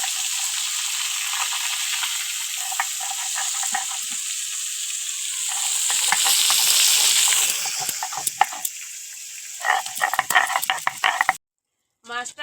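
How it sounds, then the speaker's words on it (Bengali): Katla fish pieces fry in oil with a bright continuous sizzle that swells, then settles into crackling bursts and scattered clatter, ending in brief silence and a short final sputter. "আর আমি মাছগুলো ভেজে নেব"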